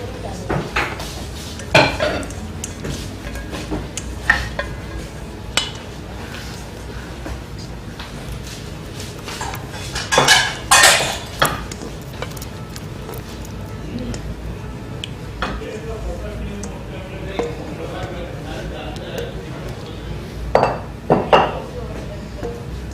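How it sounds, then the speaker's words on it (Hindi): Three milks are mixed together in a bowl for three milk cake, with intermittent clinks and scrapes of utensils against the dish, under a person talking. "मैंने इसमें तीनों मिल्क जो है इसमें मिक्स कर रहा हूँ मैं।"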